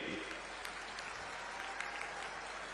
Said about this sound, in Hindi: माननीय श्री राहुल गांधी जी, एक बार जोरदार तालियों से स्वागत करिए